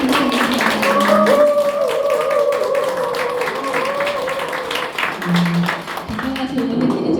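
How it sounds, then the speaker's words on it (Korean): Audience applause at a Korean book concert, steady clapping from a crowd lasting several seconds with a sustained tone and some voices mixed in. "큰 박수로 해주시면 감사하겠습니다."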